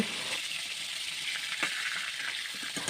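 Pointed gourd (potol) pieces frying in hot oil, a steady broadband sizzle with a few soft crackles and clinks as they are turned, close and even throughout.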